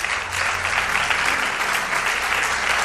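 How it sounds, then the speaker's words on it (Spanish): A studio audience at a Spanish talk show on mysteries and enigmas applauds a guest, with loud, dense, continuous clapping from many hands throughout the short burst. "Os pido un aplauso para Josep Guijarro, nuestro primer invitado"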